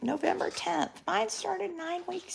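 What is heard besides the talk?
None of the usual background noises is heard.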